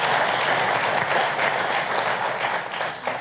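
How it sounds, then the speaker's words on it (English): Audience at an evening candidates' forum applauding in thanks, dense steady clapping filling the room, loud and continuous, easing slightly at the close. "If we could give them a round of applause just to say thank you."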